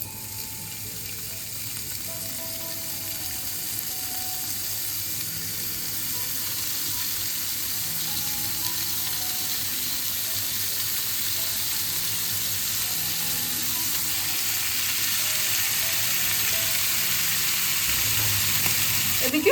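Marinated honey chicken pieces sizzle steadily as they fry in oil in a pan, a constant bright crackle that grows slightly louder over time, with faint background hum and no clear talk.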